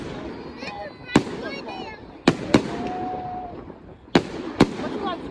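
Fireworks burst at a bonfire night display, five sharp bangs spaced irregularly over a steady crowd murmur, with a rising whistle from a rocket and faint chatter and cheering in the background.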